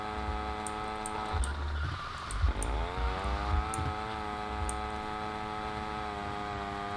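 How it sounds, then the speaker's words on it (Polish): A scooter engine in the video game GTA Vice City, a steady buzzing drone whose pitch dips and then climbs smoothly as it revs, with faint clicks and game sounds around it. "Patrz, ten skuter, ten jego dźwięk."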